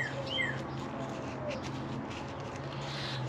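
Birds sing outdoors in a garden where peppers are being potted, a few faint, thin chirps and short whistles scattered over a soft background hum, fairly distant.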